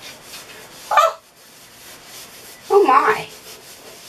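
A Mr. Clean Magic Eraser rubs over a dirty bathtub in two short scrubbing strokes about two seconds apart. Each stroke is a brief, close, gritty swish, with quiet pauses between them and a short spoken exclamation.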